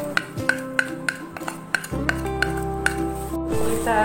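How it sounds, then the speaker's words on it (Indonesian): A spoon stirs wheat flour and cornstarch batter with moringa leaves in a bowl, making quick regular clinks against the side, close and clear, with a duller scraping swirl in the second half. "Kita aduk sampai merata."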